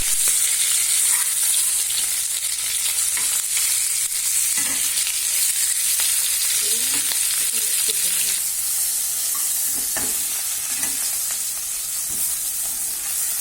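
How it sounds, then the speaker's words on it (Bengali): Fish pieces lightly frying in a pan of oil for a malai curry, a loud, steady, close sizzle and crackle with a few faint spatters, continuous throughout and no voices. "মাছগুলো হালকা হালকা করে ভেজে নিচ্ছি বেশি ভাজবো না"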